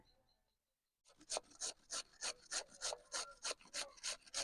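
Carrots are rubbed through a grating machine in a home kitchen: after a second of quiet, a steady run of about a dozen evenly spaced rasping strokes, close and fairly loud.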